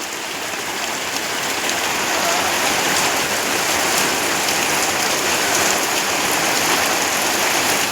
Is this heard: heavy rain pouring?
yes